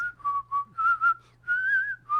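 A person whistles a series of short warbling notes, rising and wavering, close up and clear against quiet.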